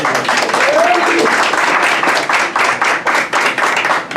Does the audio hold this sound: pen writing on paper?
no